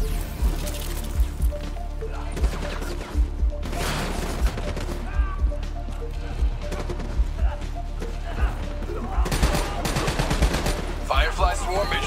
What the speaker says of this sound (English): Fireflies, a swarm of incendiary nanobots.